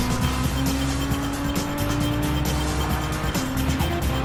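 A race car with a loud gearbox roars loudly and steadily at close range, engine droning with a harsh mechanical gearbox whine layered over it, no talking.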